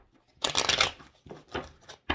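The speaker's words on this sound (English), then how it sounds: "one more shuffle." Tarot cards being shuffled close up, several quick riffling bursts in a short sequence, with brief pauses between them and no talking.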